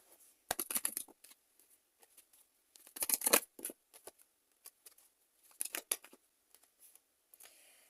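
Tarot cards being shuffled in three bursts of quick riffling and papery flicks separated by short pauses, close and fairly quiet, with no voice.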